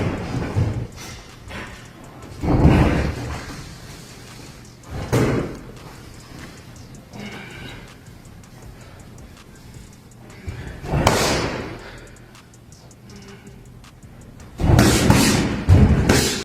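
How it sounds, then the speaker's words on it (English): A boxer, Gervonta "Tank" Davis, pounds a heavy bag in a training camp, landing a few heavy thuds spaced several seconds apart, with a final quick cluster of hits, over quiet gym background. "Tank Davis is pounding the heavy bag with power and focus."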